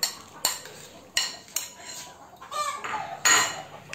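Flaked fish being stirred in a metal cooking pot for ginataang sitaw at malunggay, a few separate scraping, clinking strokes of a utensil against the pot, fairly close and alone.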